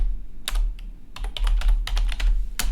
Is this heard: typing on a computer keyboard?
yes